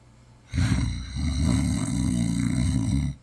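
A person pretending to be asleep fakes a heavy snore, one long, loud, rumbling throaty snore that starts abruptly and lasts nearly three seconds, a voice imitating the sound.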